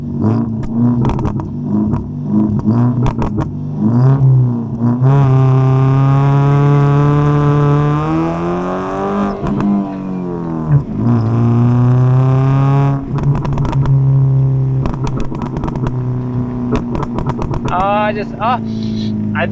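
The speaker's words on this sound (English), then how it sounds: "So, Matt, we're gonna do a little bit of a burnie. Probably a one-wheel peel because this doesn't have an LSD." Ford Figo spinning one wheel in a burnout on a dirt road, its engine revving loud and close in long rising and falling sweeps across the whole stretch, with brief dips between pulls.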